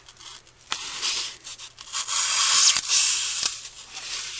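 A knife slicing through foam to trim the corners off a block for a lemon centerpiece, giving close, crisp hissy tearing strokes that come in several short bursts with no talk.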